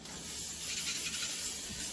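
A steady, fairly quiet hiss of aerosol lubricant sprayed onto a crank gear inside a VW Squareback door, lasting about two seconds, bright and airy without pauses.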